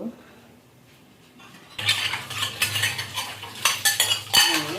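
A cooked curry pot is handled and taken off a switched-off stove, bringing loud close metallic clanks, scrapes and rattles of pot and utensils after a brief quiet start.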